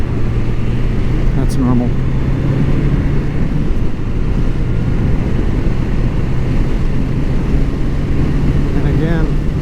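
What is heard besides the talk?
1981 Honda CB750C motorcycle engine idling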